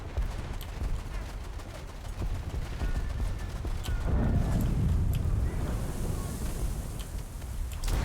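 Guns on a PT boat in a naval combat game fire in a dense, steady rattle over engine and water rumble, with a heavier boom swelling in the middle.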